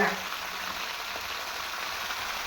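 Vegetables with curry leaves fry in oil in a pan, a soft steady sizzle heard faintly and close, with no voices.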